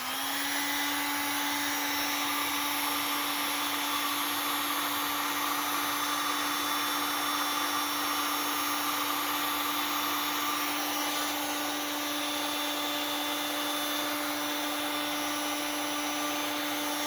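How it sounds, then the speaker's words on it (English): Heat gun shrinking heat shrink tubing during a Harbor Freight maintenance charger install in a vehicle, a steady close blowing whine with a constant tone that runs unbroken throughout, alone without talk. "I'm going to use a heat gun."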